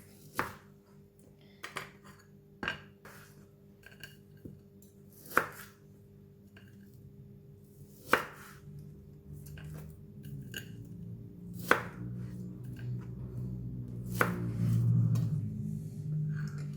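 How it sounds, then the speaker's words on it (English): Knife chopping through still-frozen crab balls on a board, a series of sharp separate thuds spaced a second or more apart, quiet and close, with faint kitchen clatter between. "for the crab balls, still frozen, we're going to cut it into half"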